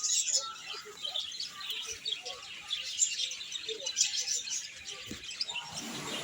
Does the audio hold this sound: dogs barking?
no